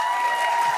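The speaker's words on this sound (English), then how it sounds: "just give me some indication, maybe some applause" An audience at a talk on mind and body gives brief, steady applause, a close, dense patter of clapping with a faint tonal hum underneath.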